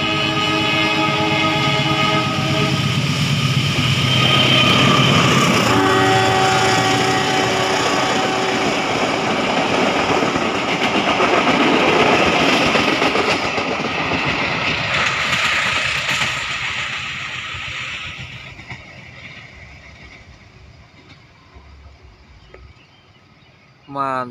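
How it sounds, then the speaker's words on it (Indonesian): Pandanwangi passenger train bound for Ketapang Banyuwangi passes close by at dawn in thick fog, sounding long loud horn blasts over heavy rumbling and wheel clatter that gradually fade as it moves away. "Semoga selamat sampai tujuan kereta api Pandanwangi, tujuan akhir Ketapang Banyuwangi."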